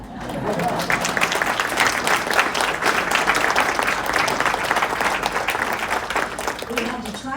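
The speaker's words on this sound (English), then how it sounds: "give a nice round of applause for our pit orchestra" An audience at a show gives the pit orchestra a full round of applause, a loud, continuous crowd clapping with some voices mixed in that tapers slightly near the end.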